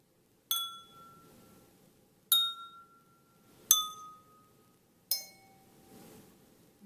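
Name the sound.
tapping wine glasses filled with different amounts of water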